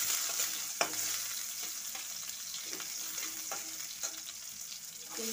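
Onions sizzling in a pan for white sauce pasta, a continuous bright frying hiss with intermittent stirring scrapes and a louder clack near the start, close up and without speech.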